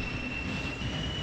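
A locomotive pulls a string of freight wagons in Trainz Simulator 2010, a steady rolling rumble with a faint high squeal from the wheels and no talking.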